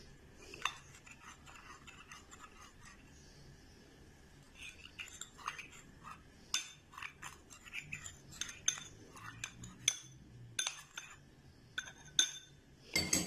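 A metal spoon stirs a bread dessert mixture of milk and cornflour in a pot, giving faint, irregular clinks and scrapes against the metal that grow more frequent toward the end.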